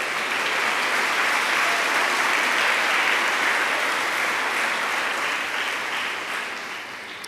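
Church congregation applauding, a dense, loud, sustained wash of clapping from a large crowd that fades slightly toward the end.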